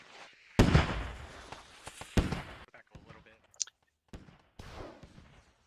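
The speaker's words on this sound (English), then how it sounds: "Huge arty round strikes," Heavy artillery rounds strike a compound in the military shooter Squad, sending out loud, booming broadband blasts. Several impacts land at intervals, each followed by a decaying rumble, with brief chatter between them.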